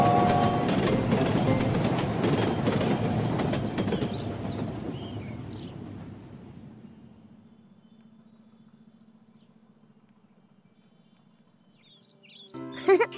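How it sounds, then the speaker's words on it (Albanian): A cartoon train rumbles past loudly, its clatter fading over several seconds to a low steady hum, followed by a brief sharp jingle at the end. "Drejt ti po vjen një tren."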